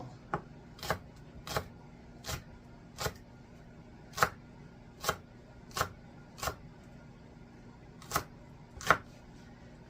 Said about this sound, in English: we're going to cut off the ends here, and we're going to chop them really,